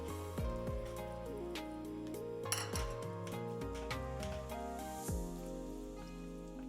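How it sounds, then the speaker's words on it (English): Red beans for Japanese anko are tipped into a metal pot, heard close and fairly quiet as a scatter of clinks, rattles and sharp metallic taps. "so let's add the beans."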